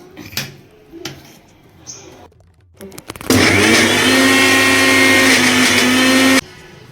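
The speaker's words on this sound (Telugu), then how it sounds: "ఇప్పుడు తిప్పుదాం ఇక మిక్సీ" A mixer grinder blending tamarind, salt and chili powder for ivy gourd pickle starts up after a few quiet clicks and runs loudly with a steady, high whirring roar for about three seconds, then cuts off.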